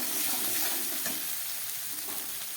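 Tomatoes frying with salt in a pan for ghugni, a steady close sizzle with light stirring, continuous and even throughout.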